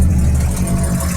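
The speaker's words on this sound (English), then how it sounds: "Right, here we are with the engine ticking over nicely." A Daimler Ferret armoured car engine idles with a steady, loud, low rumble and even throb, close by with no voices.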